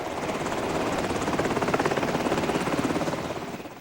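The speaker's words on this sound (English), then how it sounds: "The airport named after him became a haze of helicopters, ferrying in the sick and the stranded." Helicopters fly over an airport during disaster relief, ferrying the sick and stranded; a loud, continuous rotor chop throbs steadily throughout, swelling slightly then fading at the end.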